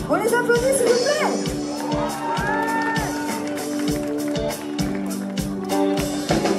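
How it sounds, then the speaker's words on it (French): A live audience at a stage presentation of dancers and a choreographer applauds and cheers loudly and continuously, with shouts and whoops rising over a steady, driving music beat throughout. "on les applaudit, s'il vous plaît."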